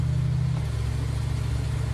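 Ford Mustang engine running at a race event, a steady low droning hum whose pitch steps down once as the gear changes, close and continuous with no talk.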